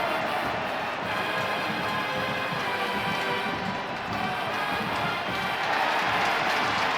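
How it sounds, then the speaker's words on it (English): Football stadium crowd at a Boston College at Clemson college game, a broad continuous roar of many voices murmuring and reacting, distant and steady. "And you hear the crowd reacting."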